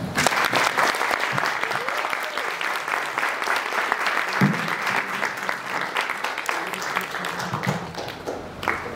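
Audience applause welcoming a professor at a university data science lecture, steady dense clapping filling the whole stretch at an even level, with faint murmuring underneath.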